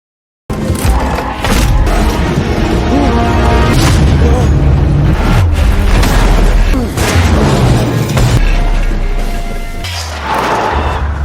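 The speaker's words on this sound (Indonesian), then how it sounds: "Akibatnya mobil Lino yang rontok dan mesinnya meledak" A car's engine explodes during a film street chase as the car falls apart, giving a run of loud, heavy booms and crashing bursts that fill the scene before easing off near the end.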